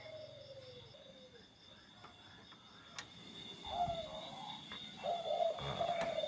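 Pet pigeons or doves coo softly in a home aviary, a few low murmuring calls with scattered chirps and small knocks, fairly faint with a light background hum.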